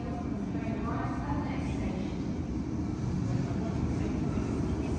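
A London Underground Bakerloo Line train pulls in at speed, a broad, loud rumbling roar that builds and holds across the platform for several seconds.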